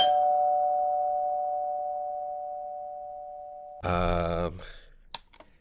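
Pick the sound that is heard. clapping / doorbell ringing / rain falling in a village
doorbell ringing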